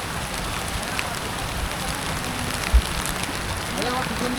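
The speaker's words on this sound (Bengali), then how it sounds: "আবার বৃষ্টি শুরু হয়ে গেছে।" Steady rain falls along the hillside path up to Parasnath temple, a dense even patter on surfaces with a brief knock near the middle, no talking.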